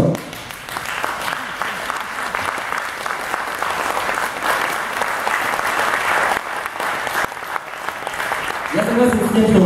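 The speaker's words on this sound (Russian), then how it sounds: "Давайте похлопаем, а?" An audience claps continuously at a sales seminar, steady crowd applause lasting nearly ten seconds, with a voice coming in near the end.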